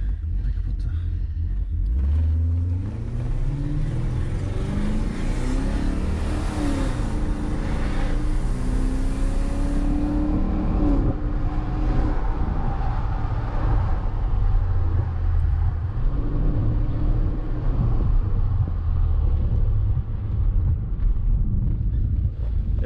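A BMW 730i with a V8 engine drives along, its steady low engine rumble and road and wind noise continuous and close throughout, with a brief rise in revs early on.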